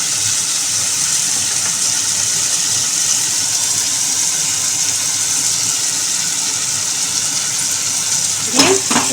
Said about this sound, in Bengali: ভালো করে মশলাটা নেড়ে নেব, কষিয়ে নেব।